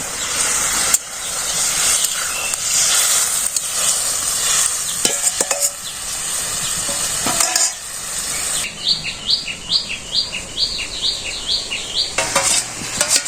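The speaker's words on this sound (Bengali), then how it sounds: "মাছ এখন দিয়ে দেবো মাছটা ভাজা করছিল" Steady sizzling of fish frying in a pan with frequent clinks and scrapes of a utensil, followed by rhythmic squeaky scraping near the end.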